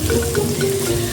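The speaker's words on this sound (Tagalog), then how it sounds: "Magdadagdag tayo ng tubig mga idol." Water is added to a cooking pan of pork kimchi guisado, making a steady close running pour with a bubbling, splashing texture for about a second, with no voices.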